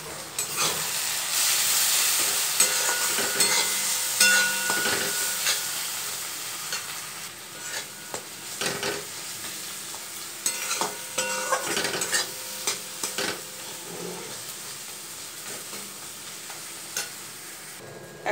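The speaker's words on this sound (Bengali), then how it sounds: "এখন মশলার থেকে তেল ছেড়ে এসেছে" Ground cumin, turmeric, Kashmiri red chili powder and salt fry in oil for a pomfret curry, giving a steady sizzle with repeated scraping spatula strokes. The stirring is close and loud at first, then eases, and no voices are heard.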